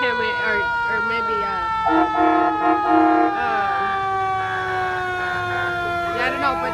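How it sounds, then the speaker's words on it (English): Fire engines decorated for Christmas roll through a residential area of Hemet, California, their wailing sirens rising and falling loudly and close over steady engine rumble, with a few horn-like blasts as they pass. "So here comes the fire department of somewhere."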